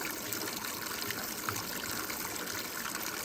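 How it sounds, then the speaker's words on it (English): Water from a mountain spring pours out quickly in a steady, even gush with a broad trickling hiss, close by and unbroken by any voices. "look at that water that's flowing out."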